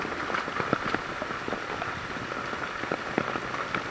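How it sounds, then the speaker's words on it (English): Rain falls steadily outdoors in rural Costa Rica near a herd of cows, a constant wash of patter with scattered sharper drops striking nearby surfaces. "It's raining."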